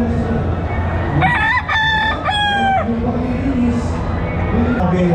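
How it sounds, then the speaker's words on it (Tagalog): A rooster crows loudly twice in quick succession at a game fowl expo, each call rising and holding, over steady background noise and faint crowd chatter. "Gandang manok oh."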